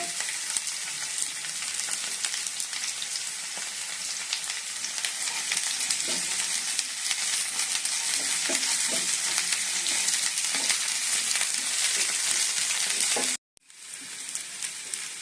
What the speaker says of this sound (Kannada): ಇವಾಗ ಈರುಳ್ಳಿ ಹಾಕೊಳ್ಳೋಣ.